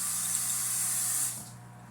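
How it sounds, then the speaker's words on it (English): Salmon fillets sizzle in a hot pan, a steady close hiss of frying that fades slightly near the end. "You can hear that sizzle."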